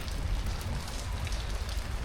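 Heavy rain falls in Coorg, a dense, steady hiss of drops pattering on surfaces. It runs close and continuous with no talk.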